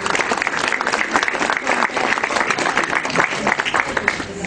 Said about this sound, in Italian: il bel sindaco di Condofuri, Gabriele Badalà, anche lui lo salutiamo con un applauso.